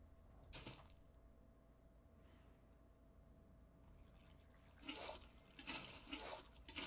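Water being placed in the Minecraft video game, a soft watery swish and trickle in a few short bursts over quiet background hiss, fairly faint and without talk.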